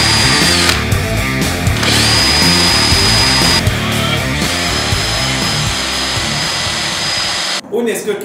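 A power drill runs steadily while pop rivets are fitted during a DIY build, a loud continuous whine with brief pauses and level changes, cutting off near the end.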